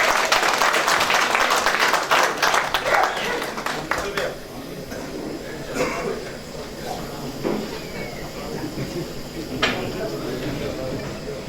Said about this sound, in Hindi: एक बार विधायक जी के लिए जरा जोरदार तालियां बजा दीजिए।